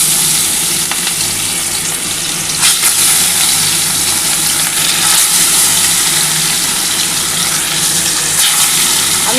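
Pieces of katla fish fry in hot oil in a pan over low gas. The sizzle is steady, loud and close, with a constant crackling hiss running right through and no talking.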